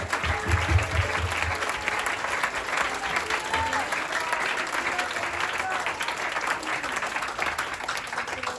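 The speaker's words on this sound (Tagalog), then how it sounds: "Malakas na palakpak para sa ating Panginoon." A congregation at a church worship service in Muntinlupa claps loudly and continuously, a thick sustained wash of hands with scattered voices and cheers mixed in.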